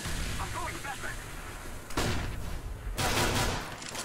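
Gunfire from a P250 pistol in a competitive shooter game, with sharp broadband bursts around the two- and three-second marks over steady game ambience and background noise.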